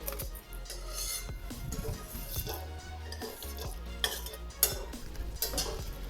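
Fried curry leaves are moved from a pan onto a plate with a metal spoon, giving faint clinks, scrapes and taps of cutlery on dishes over a low, quiet background.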